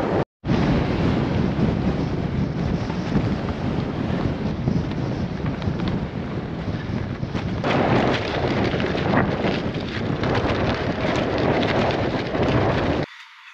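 Strong wind in the Australian bush of South Australia buffets the microphone in a loud, continuous roar with rumbling gusts, steady throughout and ending abruptly, with no voices.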